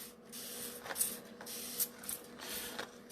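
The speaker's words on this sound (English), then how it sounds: "So I can spray it with a little bit of water to keep this alive." Short bursts from a hand spray bottle misting water onto sea spray texture paint mixed with chalk paint, several quick hissing squirts close by with faint trigger clicks.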